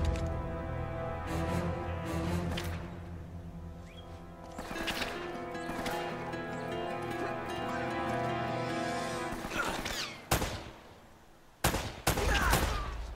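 Gunfire in the action game Uncharted: Drake's Fortune, with scattered shots and sharp bursts over a steady musical and ambient game backdrop, getting louder and more clustered toward the end.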